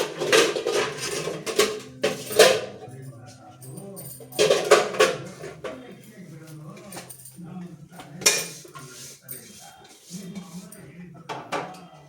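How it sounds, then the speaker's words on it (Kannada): A pot set down and cookware clinking in a home kitchen during a Sankranti festival cooking session, several separate metallic clatters spaced across the clip with quieter handling sounds between them. "ಇವಾಗ ಪಾತ್ರೆ ಇಡ್ತಿದ್ದಾರೆ"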